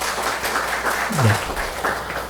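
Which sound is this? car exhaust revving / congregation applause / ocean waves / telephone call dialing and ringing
congregation applause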